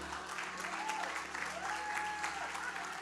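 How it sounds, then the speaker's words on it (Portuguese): A church congregation applauds at a worship service, a steady wash of many hands clapping throughout, with a voice speaking over the applause. "você pode aplaudir o Senhor?"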